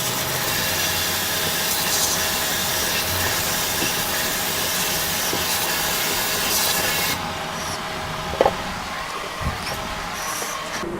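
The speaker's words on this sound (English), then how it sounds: "Okay, so now I wash my mushrooms." Mushrooms rinsed under a running kitchen tap at the sink, a steady broad rush of water that cuts off partway through, leaving a quieter room with a couple of light knocks.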